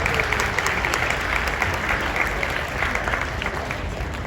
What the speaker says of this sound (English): let's take a clap for them